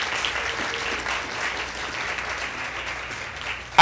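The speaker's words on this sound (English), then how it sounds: "Can you give her a round of applause," Audience at a debate finals event applauding for a minister, steady sustained clapping from a crowd filling the whole stretch.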